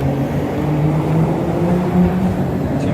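Steady rumble of cars crossing a noisy metal bridge, a continuous low drone with a faint engine hum layered through it, no distinct clanks standing out.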